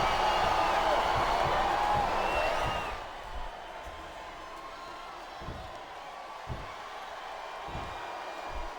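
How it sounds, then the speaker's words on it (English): Capacity crowd at a WWE wrestling arena, No Mercy 2007 event, roaring loudly for about three seconds, then dropping to a steady murmur with a few sharp thuds from the ring. "This capacity crowd is making their opinions known tonight."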